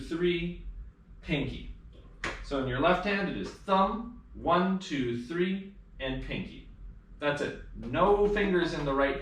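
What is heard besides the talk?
No everyday noise stands out behind the speech.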